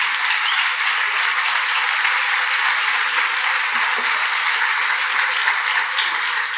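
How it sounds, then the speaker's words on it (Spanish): A church congregation applauds loudly and steadily at a service in Ecuador, a dense, continuous wash of clapping that holds at full strength throughout, with no talk over it. "denle un aplauso bien fuerte al Rey"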